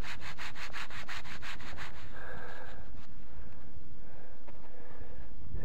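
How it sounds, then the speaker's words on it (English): A found metal-detecting coin is rubbed vigorously against trouser fabric, giving a close, loud scratchy swishing in quick rhythmic strokes that slow into rougher, irregular rubs. "Let's give it a rub on the magic pants."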